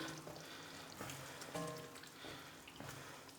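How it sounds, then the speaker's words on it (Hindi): Diced potatoes being stirred and tossed in a hot frying pan for dhaba-style aloo bhujia, a soft sizzle under scraping and clinking of the spoon, close but low in level. "आलूओं को कर देंगे अच्छे तरीके से मिक्स"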